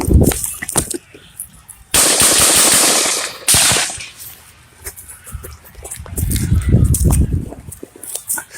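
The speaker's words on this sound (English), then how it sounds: "we know exactly from the time the shooting starts to the time the shooting ends" Gunfire recorded at the outdoor rally during the Trump assassination attempt, loud sharp cracks and echoing bursts spread across several seconds amid crowd noise.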